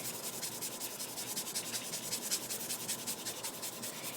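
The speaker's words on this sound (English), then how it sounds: "what I'm basically doing is using sandpaper" A knife edge being sharpened on fine-grit sandpaper to a convex edge, giving steady, rhythmic rubbing strokes with a soft scratchy texture, close and fairly quiet, with no talking.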